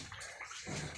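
Water thrown out by hand after a storm makes a brief, faint splash and pour, lasting about a second.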